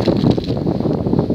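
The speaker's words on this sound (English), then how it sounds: "excuse the wind as well, it's quite windy up here on the coast." Gusty coastal wind buffets the microphone with a continuous low rumble, loud and close, no other sounds standing out.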